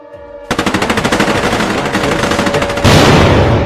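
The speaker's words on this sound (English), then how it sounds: "suddenly the 10 anti-air guns open up" Rapid anti-aircraft gunfire from a battery of ten guns during an air raid bursts in after a faint lead-in, a dense steady stream of loud repeated shots that swells even heavier near the end, with no voices.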